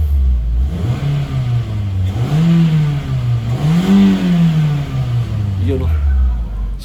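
Toyota Corolla Altis 1.6 dual VVT-i engine revving close up, with two rising swells in RPM that peak and then fall back to idle. The engine is loud and steady, and no one speaks.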